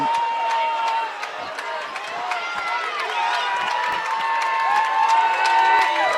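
A crowd at a North Kitsap vs. Bainbridge high school football game cheers and shouts steadily and loudly throughout, a dense wash of many voices with no pauses.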